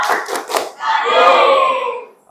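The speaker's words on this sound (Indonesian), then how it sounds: "Oke, kasih tepuk jempol untuk Suci dan Suryanti. Tepuk jempol" Classroom of students shouting a thumb-clap chant in unison: three short claps or shouted beats, then a sustained group chant, loud and close.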